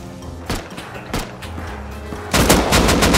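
Gunfire in the survival game Rust, with a couple of sharp single shots followed by a dense rapid burst of automatic fire, loud and close, no voices.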